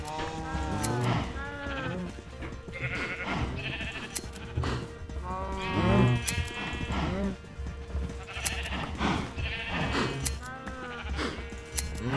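Sheep in Minecraft bleat repeatedly in short wavering calls, several overlapping at close range, while someone talks over them.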